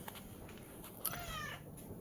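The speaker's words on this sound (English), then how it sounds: "Fucking cats, am I right?" A cat gives a single short meow partway through, faint and fairly close over quiet room background, with no talking.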